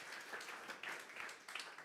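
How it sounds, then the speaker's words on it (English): An audience claps for a presenter at a financial services data analytics and AI event, a faint, brief patter of scattered hands from a small crowd. "We can give him another round of applause."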